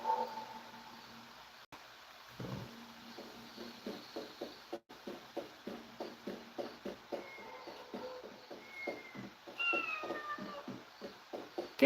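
A cat meows repeatedly in the Shenmue III video game, a steady run of short, evenly spaced mews over soft ambient background sound.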